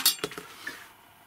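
Boiled small potatoes being mashed in a pot, a few sharp metallic clinks and knocks of the masher against the pot in quick succession, then fading to quiet room tone.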